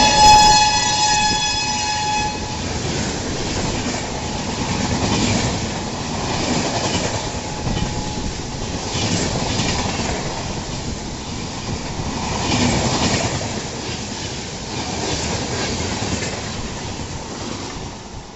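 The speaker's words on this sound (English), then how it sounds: "Banka Sealdah AC Duronto Express locomotive WAP7" Sealdah AC Duronto Express train hauled by a WAP7 electric locomotive, passing with a steady rumble and rhythmic clickety-clack of wheels over rail joints, a horn tone heard briefly at the start.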